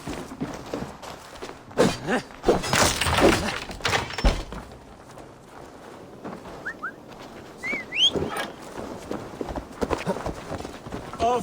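Horse hooves clip-clopping and galloping in the video game Assassin's Creed Valhalla, steady footfalls at moderate distance mixed with birdsong and outdoor ambience.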